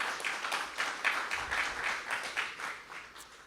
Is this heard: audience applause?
yes